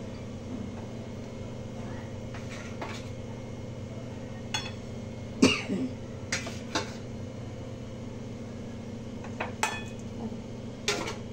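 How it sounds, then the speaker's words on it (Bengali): A lid comes off a pan and turmeric-and-salt-rubbed fish is added, heard as a few sharp metallic clinks and soft knocks over a low, steady kitchen hum. "এবার ঢাকনাটা খুলে এর মধ্যে মাছগুলো, লবণ হলুদ মাখা মাছগুলো দিয়ে দেবো।"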